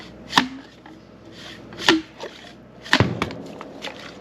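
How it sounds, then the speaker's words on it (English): Three sharp metallic knocks from a slide hammer on a stuck pipe fitting, spaced about a second or more apart, loud and close, with a few lighter taps between them. "We use this as a slide hammer."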